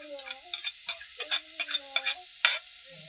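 Dry rice and glutinous rice being sautéed in a pan for arroz caldo, with repeated spoon scrapes and stirring strokes over a light sizzle; close and clear, with no talking.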